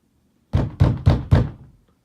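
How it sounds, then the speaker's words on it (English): Four loud, heavy knocks on a door in a quick, steady series, each with a deep thud, with silence before and after. "This was a way more disturbing and aggressively louder knock."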